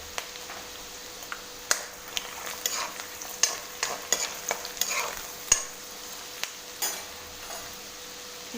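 Green chillies frying in a pan for poha chivda, a soft steady sizzle with scattered crackles and pops throughout, fairly faint and without any talk.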